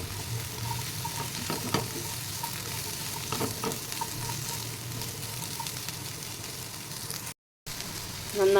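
Sliced bitter gourd and shallots fry in a pan. Constant close sizzling is broken by scraping stirs and clatters, with a brief gap near the end.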